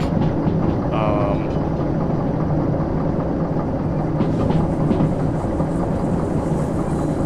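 A loaded train in Derail Valley rolls steadily along the rails with a dense, continuous rumble and rattle while being held back at about 40 on a descent, with brief squealing tones early on.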